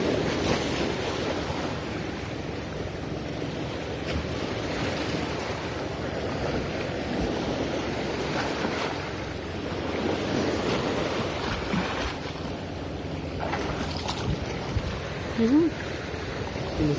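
Strong ocean surf breaking during a fishing trip, a steady broadband wash of waves with wind buffeting the microphone throughout.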